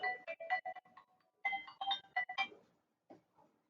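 Telephone ringtone playing a short melodic electronic tune in bursts, with a pause mid-way and a faint trailing note, clear and close with no talk.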